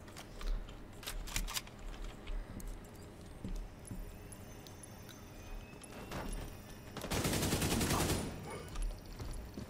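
Headshot gunfire in the video game The Division 2 crackles as scattered, fairly quiet shots. A denser burst of firing arrives near the end, with game ambience underneath.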